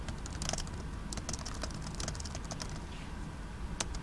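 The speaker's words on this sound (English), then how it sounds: "You're going to type your name." Fingers type on a computer keyboard in a classroom, a rapid, uneven patter of close key clicks running steadily throughout with no talking.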